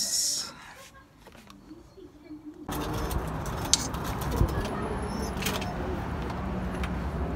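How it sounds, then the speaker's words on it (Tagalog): Pet pigeons cooing in a backyard setting, their soft calls mixed with outdoor background noise and someone talking nearby. "puntahan natin yung aming alaga na mga kalapate"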